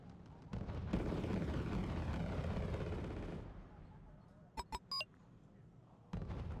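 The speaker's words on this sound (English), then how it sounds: "here come the planes" Aircraft and combat sounds in the strategy game Wargame: Red Dragon, a loud roaring rush of jets with rumbling blasts that fades, followed by a few sharp electronic beeps and a final burst.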